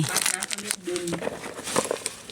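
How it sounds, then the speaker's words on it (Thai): A plastic bag mouth is folded down over a plastic neck ring while bagging oyster mushroom growing medium, giving close, continuous crinkling and crackling over about two seconds, with faint voices in the background. "เนี่ยใส่เข้าไปแล้วก็พับปากถุงลงแบบนี้นะคะ"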